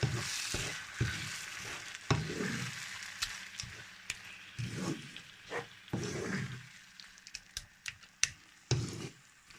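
Mashed brinjal, onion and tomato are stirred in a frying pan, with a low sizzle under repeated soft scraping strokes and quick light taps of a spoon, close by and uneven in rhythm.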